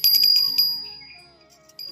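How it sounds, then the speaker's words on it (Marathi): A small hand bell rings during a Holi puja at home, a quick run of bright metallic strikes that then fades into a long, clear ringing decay before a last short ring. "आता आपण ह्या भूमीला ह्या दिव्याने ओवाळायचे आणि घंटी वाजवायची"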